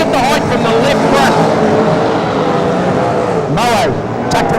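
Super saloon race cars roaring around a dirt speedway, including a Chevy out front, engines droning loudly with passing whooshes, under continuous excited race commentary.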